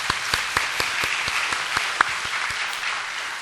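A church congregation applauds during a service honoring a women's mission society: a crowd of hands claps fairly steadily with sharper individual claps standing out, moderately loud and alone without talk.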